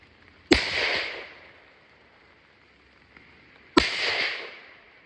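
Two rifle shots from a 7mm PRC with a 22-inch barrel during load development, each a sharp loud crack followed by a long rolling echo, spaced about three seconds apart with quiet between.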